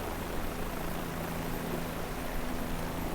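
A helicopter in a flight simulator game cruises on a short flight from JFK to Newark, giving a steady, dense whooshing drone of rotor and engine noise that stays constant throughout with no talk.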